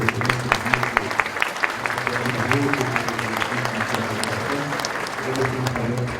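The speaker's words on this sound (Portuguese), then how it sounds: "Os aplausos de todos mais uma vez." An audience at a plenary session of a conference applauds steadily for several seconds. The dense, even clapping fills the room, with a voice heard faintly beneath it.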